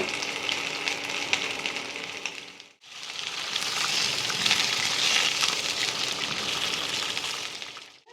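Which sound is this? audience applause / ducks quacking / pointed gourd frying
pointed gourd frying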